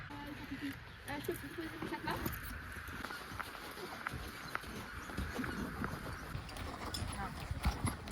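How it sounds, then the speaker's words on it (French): Horses walking on a trail ride up a volcano, hooves clip-clopping in a steady uneven rhythm at moderate distance, with people talking over the steps and outdoor background noise. "Ça fait 1h30 qu'on fait du cheval."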